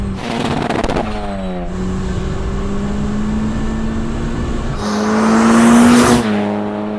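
A Golf GTI 20VT engine pulls hard at full throttle, its loud rising drone climbing steadily through the revs with quick gear-change dips near the start and end. No voices.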